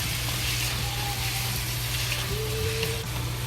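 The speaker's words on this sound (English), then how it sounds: "we put the meat into it and fry" Pork frying slowly in oil in a pot with ginger and star anise, giving a steady, dense sizzle throughout with a low hum underneath and no talking.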